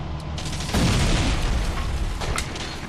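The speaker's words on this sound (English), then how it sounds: "I just dropped a bomb" A bomb blast in the flight game Wings! Remastered, one sudden muffled boom about a second in that rolls off into a fading rumble, followed by a smaller burst near the end.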